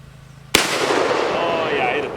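A Mossberg Nightstick shotgun fires a single loud, sharp blast partway through, followed by a long echoing outdoor decay, after a brief quiet start with a low hum.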